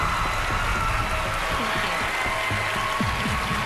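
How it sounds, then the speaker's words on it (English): Studio audience applauding on a televised singing competition show as a performer leaves the stage, a dense, steady wash of clapping and crowd noise at constant level throughout. "let's all give her an enormous round of applause as she goes off"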